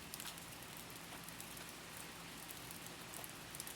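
Steady rainfall with a soft, even hiss and scattered light drops pattering on a surface, faint and distant-sounding, continuous and unbroken, with no voices.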